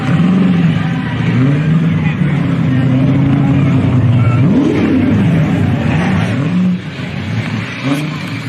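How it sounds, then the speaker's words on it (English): A car does burnouts at a Powercruise event in Sydney, its engine revving hard and wavering up and down in repeated surges. The revving is loud and close, over crowd and ambient noise. "Let's watch the burnouts first"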